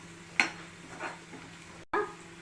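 Garlic fries in a pan for a pickle, giving a faint, low sizzle broken by a few soft stirring scrapes against the pan. The sounds are close and quiet, with no talking.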